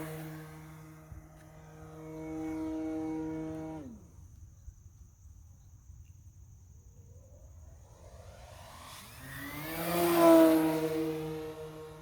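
Electric motor of a Carbon Z Cub SS 2.1m RC plane at about 30% throttle, a tonal whine with harmonics that drops away mid-clip and then rises again, swelling louder near the end.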